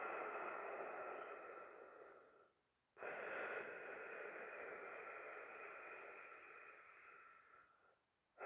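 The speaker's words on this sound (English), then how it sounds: "I strongly recommend Ujjayi Pranayama, that ocean-like breath." Slow, deep Ujjayi yoga breathing with a soft, ocean-like hiss, drawn out in long continuous breaths close by, with two brief pauses between them and no talking.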